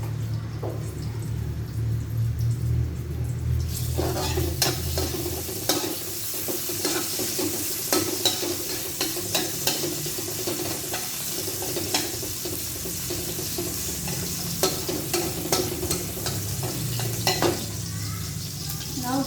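Ginger and garlic sizzle steadily in a hot pan while a utensil stirs and scrapes them, with clinks and scrapes rising over the frying hiss throughout, close and fairly loud, no talking.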